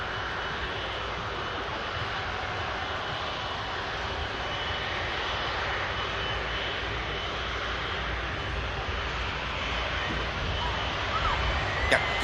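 An aircraft engine drones steadily at Manchester Airport as a plane climbs out, a broad continuous roar at moderate level for the whole stretch.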